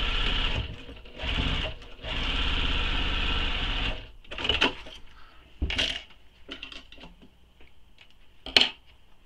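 A sewing machine bastes a seam on a crossbody bag in several short bursts of whirring, then stops, followed by scattered clicks, taps and handling knocks as the fabric is adjusted.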